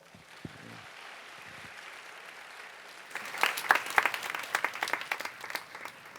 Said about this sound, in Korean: 우리 함께 박수할까요?